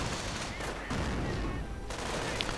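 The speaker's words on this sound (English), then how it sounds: "mortar rounds landing amongst his troops. And a strafing run as well, clearing out several teams." Dense gunfire and explosions from a strafing run and mortar fire in a WWII strategy video game, a continuous loud barrage with faint talk mixed in.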